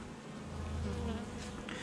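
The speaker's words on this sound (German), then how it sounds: "jede Biene, die mir jetzt hier im Wege ist, die kann ich hier mit meinen Fingerkuppen einfach wegschicken" Honey bees buzz close and steadily as a hive is opened for inspection, a dense droning hum that swells slightly.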